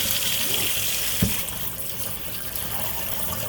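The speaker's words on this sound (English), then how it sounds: "I usually use my sprayer because it hits hard." A kitchen sink sprayer running a strong, steady stream of tap water over carrots, a constant hiss with a small splash partway through and faint voices underneath.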